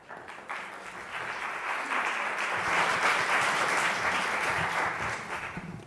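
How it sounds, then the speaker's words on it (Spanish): Conference audience applauding a speaker's introduction, a steady wash of many hands clapping that swells in the middle and tapers slightly toward the end, moderately distant with no voices over it. "Démosle un aplauso."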